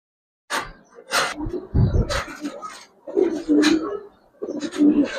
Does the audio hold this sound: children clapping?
no